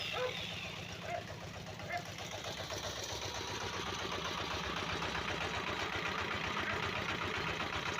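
A homemade generator driven by a small engine runs with the throttle raised, a steady low mechanical drone held throughout at moderate distance.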